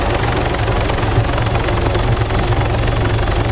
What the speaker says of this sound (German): Leute, ich kann kein Wort hören, wenn der Heli so laut ist.